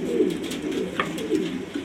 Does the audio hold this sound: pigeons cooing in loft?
yes